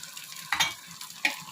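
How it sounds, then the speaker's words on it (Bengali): Spices and coconut for biryani fry lightly in a pan under a low, quiet sizzle, with two brief scraping stirs of a utensil standing out. "এটা হালকা করে ভেজে নিচ্ছি।"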